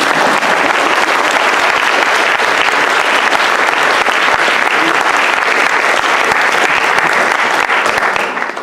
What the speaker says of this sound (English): Can we give him a round of applause first?